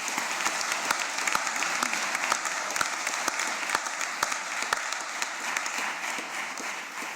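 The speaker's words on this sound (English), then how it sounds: "Have a round of applause for all our new members." An audience applauds new members at a medical college admission ceremony, a steady, fairly distant wash of many hands with a few sharper individual claps standing out, slowly fading toward the end.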